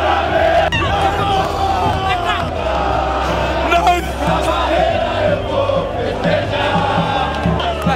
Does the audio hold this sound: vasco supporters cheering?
yes